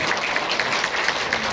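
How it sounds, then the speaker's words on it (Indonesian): A crowd at an Indonesian umrah and hajj travel event claps together, a close, dense, even burst of applause with no talk over it. "Tepuk tangan lagi semuanya."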